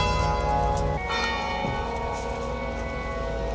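Church bells ring at a funeral as the coffin arrives, with a rich, sustained metallic tone, their overlapping strikes lingering and decaying over a steady background, with no voices.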